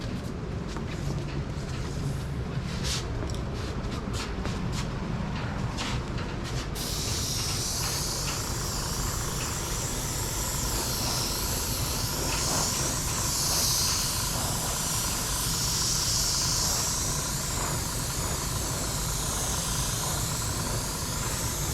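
An airbrush hisses continuously as it sprays touch-up paint onto a 1972 Dodge Challenger during restoration, a steady loud spray of air with a brighter, more intense hiss partway through.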